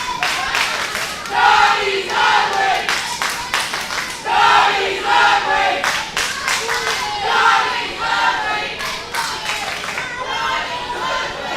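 Wrestling event crowd at a ProSouth show chanting and cheering in a loud, rhythmic roar with bursts of clapping, filling the arena steadily with a commentator talking over it.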